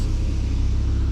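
A BMW G80 M3 rolls past with a low engine rumble, steady and fairly loud across a brief moment, no voices.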